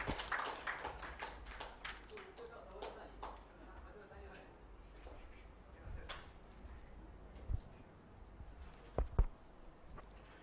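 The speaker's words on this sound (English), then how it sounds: "I will be requesting each and everyone to welcome him with a round of applause." A conference audience gives a round of applause: dense clapping in the opening seconds that thins and fades into room murmur and a few scattered claps, with voices talking throughout.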